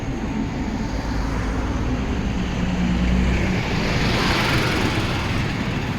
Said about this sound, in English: That there is a bin lorry